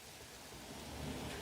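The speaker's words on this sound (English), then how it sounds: "wind and rain with a touch of overcast and thunderstorms." Steady rain and low thunder rumble from thunderstorm weather in a video game, a dense even wash of noise heard quietly and alone for a brief moment.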